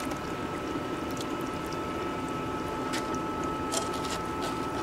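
Water rushes continuously through a gold prospecting sluice, a loud, steady gushing and splashing flow with no pauses and no voices.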